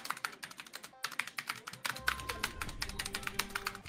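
Rapid clacking keystrokes on a computer keyboard during an online gaming session, dense and close, with a low hum joining partway through.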